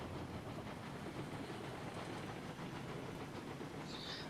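A steam locomotive in the Railroads Online game pulls away with speed, a faint, dense chuffing and rolling rumble that continues steadily with no talk.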